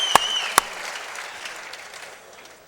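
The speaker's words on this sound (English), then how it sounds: "The crowd getting a huge ovation from the fans." Fans at a boxing fight give a sustained ovation, applause washing through the arena after two sharp near claps, gradually fading toward the end.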